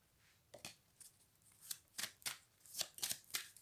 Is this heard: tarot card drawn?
yes